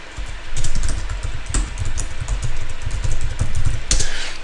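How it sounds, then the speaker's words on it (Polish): Keys clatter on a computer keyboard in quick uneven bursts of close, crisp taps, with a couple of sharper key presses standing out, over a low background rumble. "Czyli wcisnę tutaj teraz klawisz Enter"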